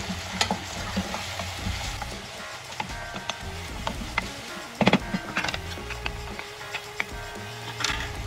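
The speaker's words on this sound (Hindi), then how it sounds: "ज़रा सा प्याज थोड़ी सी सौते हो जाए हमारी" Chopped onions sauté in a pan while being cooked for an okra (bhindi) dish, giving a steady close sizzle with scattered scraping stirs and clinks, no talking.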